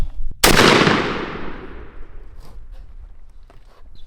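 A single loud shotgun blast from 2 3/4-inch Remington Express turkey loads fired through a Carlson's Longbeard XR turkey choke, with a sharp report and a long decaying tail followed by faint outdoor rustle.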